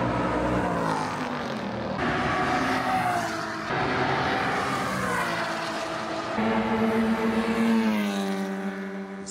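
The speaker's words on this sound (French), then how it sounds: "il y a Mohamed qui va partir pour faire ses premiers tours en piste" Race car lapping a circuit, a loud continuous engine roar with rising and falling gear pitch sweeps, shifting several times as it accelerates, close and steady throughout.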